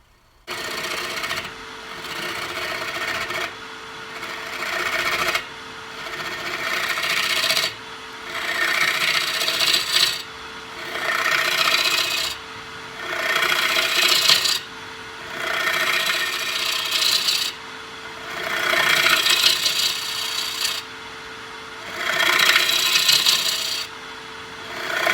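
An avocado wood bowl spins on a lathe while a gouge cleans up the back and cuts a tenon, giving loud, repeated scraping passes of a few seconds each over a steady low hum.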